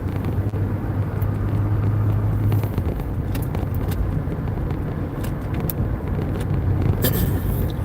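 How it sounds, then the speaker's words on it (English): A car downshifting while driving on a long commute toward the Bay Area, with a loud, steady engine and road rumble and a low engine tone that shifts partway through. "Downshifting."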